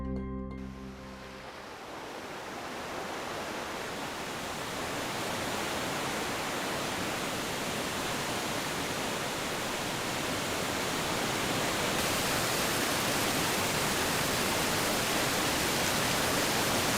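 A waterfall pours into the sea where a Jeju Island stream reaches the coast, a dense, unbroken roar of rushing water that holds steady and swells slightly louder throughout.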